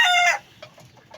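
A gamecock rooster, a Regular Gray crossed with a Boston Sweater, gives a loud, close, harsh crowing call lasting a fraction of a second, followed by quieter faint clucks and rustling.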